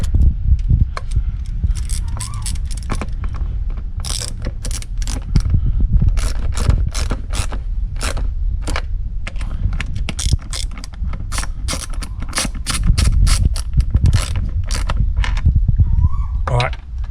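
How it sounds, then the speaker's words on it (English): A ratchet clicks in quick repeated bursts while bolts are torqued down on a Ford Duratec VVT engine seal cover, close and steady with short pauses between strokes. "I'll go around them and I'll just torque them up like a bit like a cylinder head"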